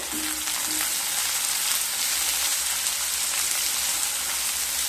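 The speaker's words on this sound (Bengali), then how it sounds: "পেঁয়াজ আর রসুনকে হালকা ভেজে নেব" Chopped onion and garlic sizzle in hot oil in a pan, a steady, dense crackling hiss that carries on evenly and close with no talk.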